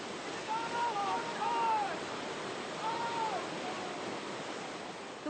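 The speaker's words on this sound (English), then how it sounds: "The white water of the Kennebec, Dead," White water on a wild Maine river, such as the Kennebec, Dead or Penobscot, rushes in a continuous broad hiss, with a few faint higher chirping tones drifting over the steady roar.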